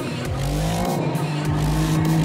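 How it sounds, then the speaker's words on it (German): Sports car wheelspin at launch in a BMW M4 CSL vs. Porsche 911 Sport challenge, a loud revving engine sweeping upward through gears with tires squealing, close and continuous. "5. Gang im Wheelspin."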